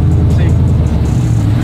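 A sequential burnout truck's engine drones loud and close in first gear, a steady low rumble with a slight rise in pitch as it pulls away, while someone talks over it.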